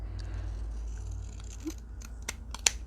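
A pair of scissors trims with a few crisp, quiet snips near the end, over a low steady background hum with no talking.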